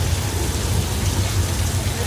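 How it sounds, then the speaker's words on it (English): Artificial rain pours steadily on the Universal Studios Hollywood backlot during the tram tour, a loud, dense, continuous hiss with a low rumble underneath. "all we gotta do is press this button one more time and the rain will stop."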